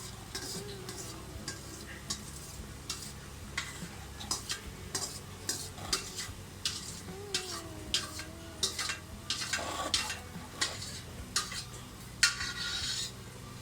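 A utensil stirs baltī gosht mutton with dry coriander in a pot, scraping and clicking in a steady rhythm over a soft sizzle of cooking, close and fairly quiet.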